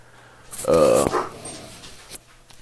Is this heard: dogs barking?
yes